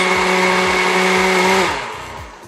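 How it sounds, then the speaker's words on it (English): A kitchen blender whirs loudly and steadily as it purées a creamy vegetable sauce with olive oil, then winds down as it is switched off. "we're just going to get this blender on"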